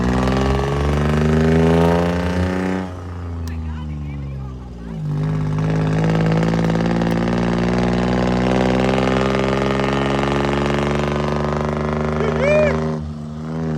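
A diesel big-rig truck engine idles with a deep, steady drone that dips briefly once before settling, at a truck pulling event. People talk nearby over the engine noise.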